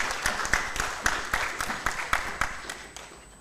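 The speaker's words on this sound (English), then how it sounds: "let's give another round of applause to Professor" A seminar audience applauds a professor with steady scattered clapping from many hands that gradually fades toward the end.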